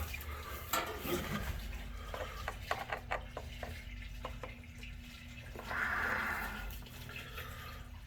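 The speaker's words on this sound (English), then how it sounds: "So we got pretty good flow of water going there." Water gushing and splashing steadily through a drain pipe during a plumbing drain-waste-vent leak test, with scattered drips and gurgles, continuous and moderately loud.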